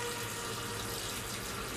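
A steady, unbroken rush of water running in a bathroom, heard at moderate loudness as a dense, even hiss with no voices over it.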